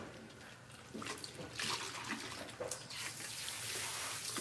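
Water runs steadily from a tap while conditioner is rinsed out of hair, a soft, continuous splashing stream with some fluctuating spatter, heard close and without talk.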